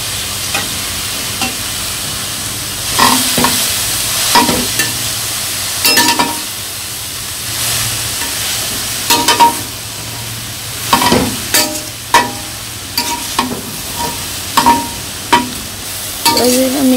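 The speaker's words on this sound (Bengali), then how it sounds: "তো লবণ দিয়ে তারপরে শাকটা ভালো মতো ভেজে নিব।" Jute leaf greens fry with salt in a pan over a village cooking fire. A steady sizzle runs throughout, broken by repeated scraping stir strokes in an uneven rhythm, close and fairly loud.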